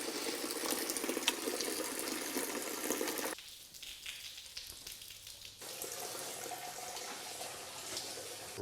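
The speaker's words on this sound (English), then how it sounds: "Drain the tank out." Fuel drains in a steady, gushing stream from the rusty tank of an old Ford Fairlane that has held low-octane fuel and water. The flow quiets briefly midway, then resumes strongly, close up with no talking.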